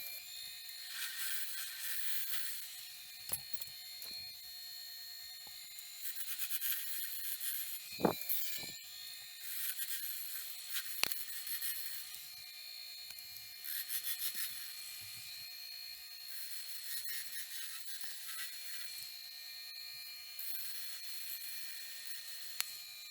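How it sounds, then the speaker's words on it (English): A gouge and a negative rake scraper cut a wooden sphere spinning on a lathe. Intermittent rasping, scraping strokes rise and fall over a low hum, with a few sharp knocks and a faint, close overall level. "remove excess material with a gouge, and then use the negative rake scraper to finish the wood removal"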